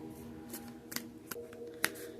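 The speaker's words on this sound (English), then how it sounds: "as I am shuffling these beautiful cards" Oracle cards being shuffled by hand, giving soft papery riffles and a few sharper flicks over a quiet steady hum, fairly close and faint.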